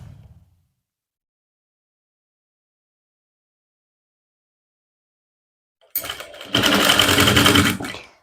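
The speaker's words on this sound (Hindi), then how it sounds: "पलटते हुए फिर हम इसको ऐसे सेट करेंगे और इसके ऊपर से सिलाई लगा लेंगे।" A sewing machine runs in one steady, fast burst of stitching as a zip is sewn onto trousers, close and loud near the end, after a long silence and a brief faint sound at the start.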